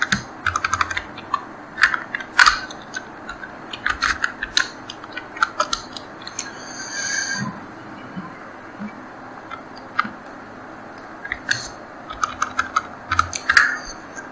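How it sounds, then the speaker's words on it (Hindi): Computer keyboard being typed on steadily to write a paragraph in a word processor, with close, crisp key clicks in uneven bursts and short pauses over about fourteen seconds and no talking. "नया पैराग्राफ एक यहाँ पर लिख लेते हैं।"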